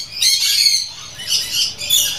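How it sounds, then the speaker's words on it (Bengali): A parrot at an exotic bird farm lets out loud, harsh squawks close up, several raspy bursts in quick succession. "এখানে একটা টিয়া পাখি রয়েছে"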